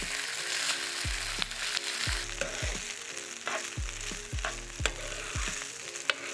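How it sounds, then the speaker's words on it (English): Loud crackling sizzle of cumin seeds and rice frying in hot ghee, with repeated thuds and scrapes of stirring at a steady rhythm. "I want to temper this until they start sizzling"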